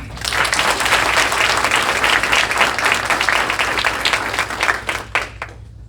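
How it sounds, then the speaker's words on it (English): Sustained applause at a Waller ISD school board meeting, a room full of hands clapping steadily and close for several seconds, tapering into a few last claps before falling quiet. "I just want to give her a round of applause for that"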